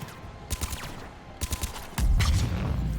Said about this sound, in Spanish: Güey, qué buena explosión.